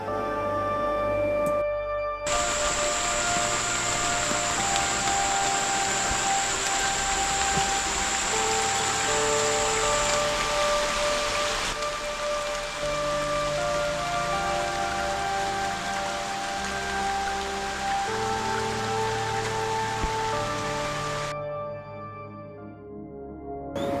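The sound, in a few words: heavy rain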